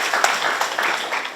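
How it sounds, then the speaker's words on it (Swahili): A crowd applauds at an awards ceremony honouring exhibitors, a dense, steady wash of clapping close by that fills the whole short stretch without any pause. "A round of applause."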